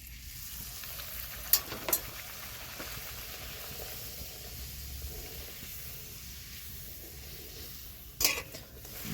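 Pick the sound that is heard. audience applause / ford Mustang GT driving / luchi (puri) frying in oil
luchi (puri) frying in oil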